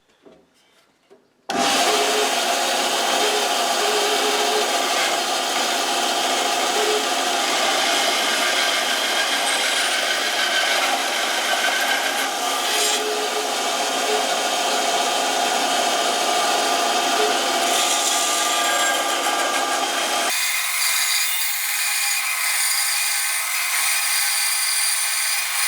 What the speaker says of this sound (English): and then we'll get it to the bobbin sander